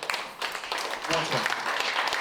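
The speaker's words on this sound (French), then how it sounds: "Applaudissez encore Eugénie" Applause from an audience at a French talk festival, a short steady burst of clapping that carries through the whole moment, with voices mixed in underneath.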